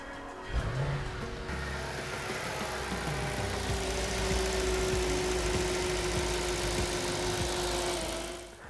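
An Audi B8 S4 V8 cranks and catches after carbon cleaning, then settles into a steady idle with a low rumble and a faint ticking, close and even until it fades near the end.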